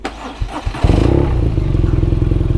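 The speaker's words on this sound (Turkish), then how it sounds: "Klasik Boxer'lı BMW çalışması." A 2014 BMW R nineT boxer motorcycle engine cold-starts, cranking with a few clicks, then catches and settles into a loud, steady lumpy idle with a rhythmic thumping beat, close by.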